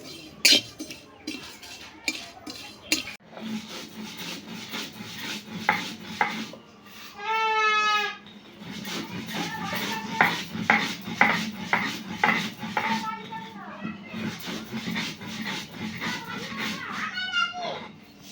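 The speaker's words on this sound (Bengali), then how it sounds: "এখন আমি ঢেলে নিয়ে সিলে গুঁড়ো করে নেব" Roasted cumin and spices are crushed on a stone grinding slab, with repeated close, rhythmic scraping strokes; a cat meows loudly partway through, and faint talk is also present.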